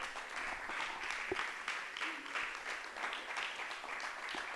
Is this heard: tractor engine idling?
no